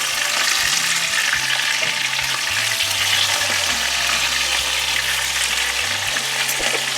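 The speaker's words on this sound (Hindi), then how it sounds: "हमने इसको बिल्कुल हल्का सा फ्राई करना है।" Fish pieces fry lightly in oil with a dense, steady hiss, close and even throughout, with faint low hum underneath.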